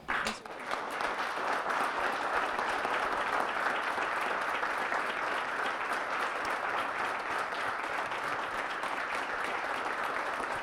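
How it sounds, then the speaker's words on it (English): A large audience applauds steadily, a dense sustained wash of clapping that starts suddenly and holds at an even level throughout. "we could give him a round of applause"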